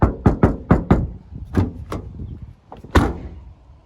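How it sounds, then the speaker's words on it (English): Toyota Prius car door fitted with sound-deadening mat being shut, a rapid run of solid, dull thumps and knocks followed by a few separate heavier closes, close and clear with no talking. "now when you close this door, it's very solid"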